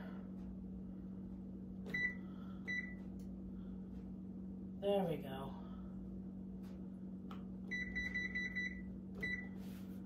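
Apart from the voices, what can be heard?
kitchen timer being set, beeping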